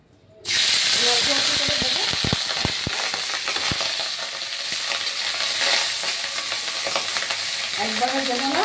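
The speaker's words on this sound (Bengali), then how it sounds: "রাইসটা একটু সামান্য একটু তেলে নেড়ে নেব।" Cooked rice stirred in a little oil in a pan for a Bengali-style katla fish biryani, a loud sudden sizzle and steamy hiss that holds steady, with scraping stir clicks early on.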